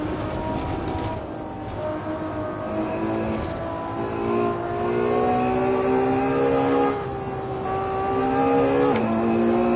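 Race car engines in the video game Assetto Corsa, with a Nismo GTR running ahead in an online lobby: a sustained, loud engine drone that rises and falls through gear changes and revs for the whole stretch.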